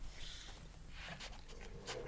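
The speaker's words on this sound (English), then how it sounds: "Dog!" A dog in the horror video game Darkwood pants and whimpers faintly in short breathy bursts, quiet and close, with no talk over it.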